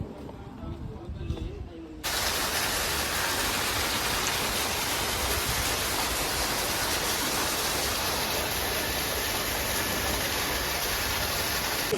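Light rain on the Amarnath Yatra route in Jammu and Kashmir, a constant soft hiss that starts abruptly after a quieter opening with faint background sound, then continues evenly and close.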